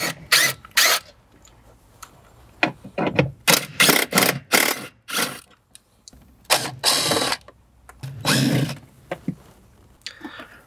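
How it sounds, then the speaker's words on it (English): Two 10 mm bolts come out of the metal panel under the knee bolster of a 2011-2018 Jeep Wrangler JK dash, with bursts of ratcheting, scraping and metallic clicks broken by short quiet gaps. "we'll remove two 10 millimeter bolts from the metal panel right underneath of our knee bolster"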